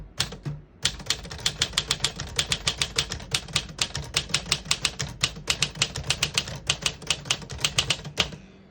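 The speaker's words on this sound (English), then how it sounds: "I'll type a sentence on the next line." A 1952 Smith-Corona Silent portable typewriter typing a sentence, with a steady run of crisp, close key strikes in an even rhythm and a brief pause at the start.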